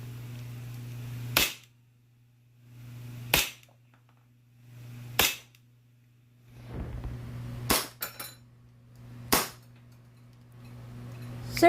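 An Army Armament R612-5A airsoft pistol fires BBs in six sharp, loud single shots spaced roughly two seconds apart, each a crisp crack over a low background hum.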